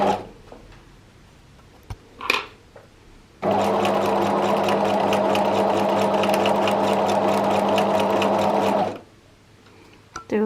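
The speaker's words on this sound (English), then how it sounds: "Put your foot down and start sewing again." A sewing machine stitches reusable make-up remover pads, a steady, fast rhythmic whirring run of several seconds, framed by quiet handling sounds and brief clicks before and after.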